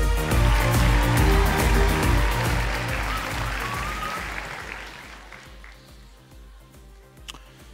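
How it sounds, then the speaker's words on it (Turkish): An audience applauds the jury at the live grand final of a Turkish song contest, loud dense clapping over music that gradually fades away, with no speech. "Önce bir jüriyi alkışlayalım bu güzel çalışma için."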